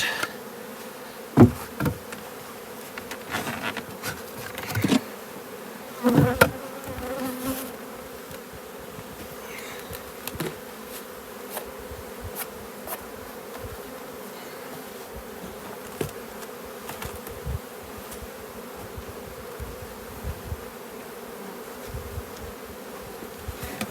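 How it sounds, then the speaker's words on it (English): A steady drone of honey bees buzzing around an open hive, with occasional knocks and clunks of hive boards and equipment nearby. "just need to get the bees off the cover"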